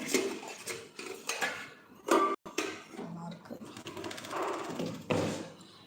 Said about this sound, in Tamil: கிண்ணங்கள்